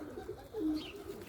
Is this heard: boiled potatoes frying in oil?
no